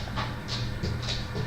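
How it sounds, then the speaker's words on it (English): A dog shuffles and pants nearby in a busy house, with soft scrabbling and breathy bursts over a steady low hum from a running washing machine. "It's my dog in the background there rattling around."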